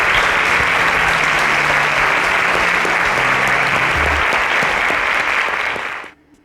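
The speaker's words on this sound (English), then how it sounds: "A round of applause for Grant as he exits the stage." A studio audience at a televised innovation competition show applauds loudly and steadily as a contestant leaves the stage, the dense clapping holding for about six seconds before cutting off sharply.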